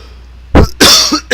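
A couple of harsh, loud coughs burst out close by, one right after another, with a short throaty rasp trailing off, in the game GTA IV.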